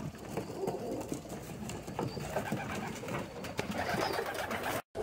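Pigeons cooing in a soft, continuous murmur at a pigeon show, several birds close by amid rustling and light background noise.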